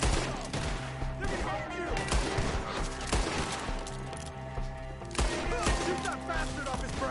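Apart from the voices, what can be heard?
gunfire in the video game Red Dead Redemption 2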